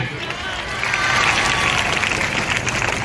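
An audience at a founder's day gathering breaks into applause, a dense wash of clapping that swells and holds for a few seconds, with a voice heard over it.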